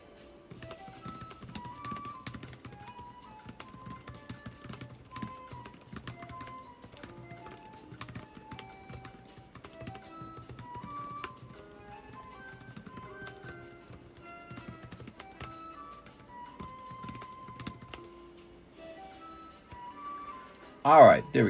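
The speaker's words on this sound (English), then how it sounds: "You guys hear me tippity typing?" Rapid, soft keyboard typing clicks go on steadily under faint tonal background sound, ending with a louder knock.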